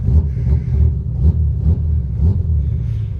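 A car engine, fresh after a battery check, running with a deep rhythmic low rumble and pulsing idle, close and steady, with no talking.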